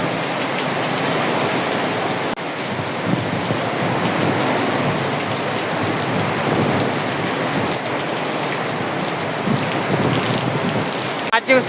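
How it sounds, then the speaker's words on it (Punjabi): Sudden heavy torrential rain pours down in a steady, dense roar of drops on surfaces, with possible low thunder rumbling in the background and no voices. "ਹੁਣ ਤੇਜ਼ ਹੋਈ ਏ ਤਬਾਹੀ ਵਾਲੀ ਬਾਰਿਸ਼।"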